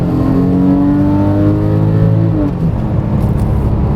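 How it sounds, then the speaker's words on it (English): A Porsche 911 Carrera 4S engine at full throttle, revving loudly and climbing steeply in pitch for about two and a half seconds before dropping off into a lower, rougher rumble, heard up close with no talking. "here is full throttle on a Porsche"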